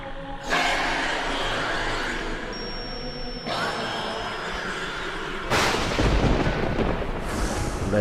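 Thunder sound effect in a horror radio drama, heavy rolling rumbles swelling in successive waves over several seconds, loud and close, with a brief whistling tone in the middle and no voices.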